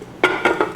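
A bundt pan of sticky brioche monkey bread flipped over onto a plate gives three quick clattering knocks of metal and ceramic, close and moderately loud, with no talking.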